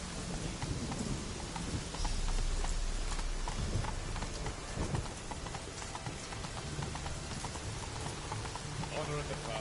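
Roach, a horse in The Witcher 3, clops along with steady hoofbeats under a dense wash of rain and ambient game noise, faint and continuous.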